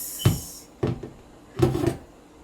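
A fridge door opens and shuts in a kitchen, three separate dull thumps with rattles spaced about half a second apart, fairly close and clear with no talking.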